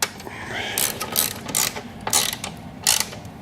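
Ratchet wrench tightening bolts on a Jeep Wrangler 392 sPod Bantam X mount, a series of short close ratcheting bursts in an uneven rhythm, about five clicking runs alone with no talk.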